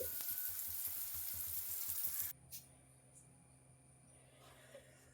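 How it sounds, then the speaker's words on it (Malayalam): Dried fish sizzling in hot oil, a dense close frying hiss for about two seconds, then cutting off abruptly to quiet room tone with a faint steady hum and a soft clink. "ഉണക്കമീൻ വറുക്കുകയാണ്"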